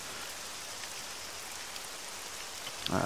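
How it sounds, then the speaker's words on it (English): Steady rain falls over a large outdoor shooting facility, a dense even hiss throughout, with a louder burst of noise in the final moment. "Rain's here now."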